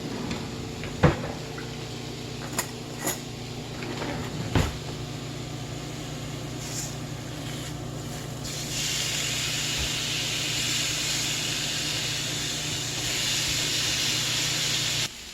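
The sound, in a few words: beef steaks flipped and searing in a pan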